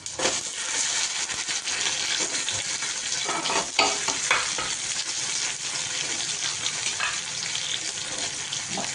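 Sesame seeds stirred in a hot pan, a continuous close sizzle with scattered clicks and scraping from the stirring throughout.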